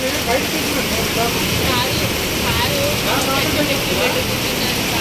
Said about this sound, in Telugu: ఏంట్రా బాబు ఇంత భయంకరమైన వర్షం